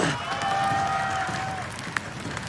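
An audience cheers and claps at the MPL esports arena during a Mobile Legends playoff match, a steady wash of crowd noise with a sustained whistle-like tone running through it.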